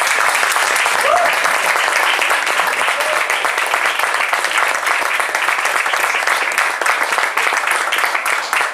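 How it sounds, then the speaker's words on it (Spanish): Audience applause fills the hall after a live piano accompaniment to a 1914 Chaplin silent film screening, a steady, loud, dense wash of clapping that carries on without a break. "Entonces, pues agradecer a Irene, por favor, un aplauso."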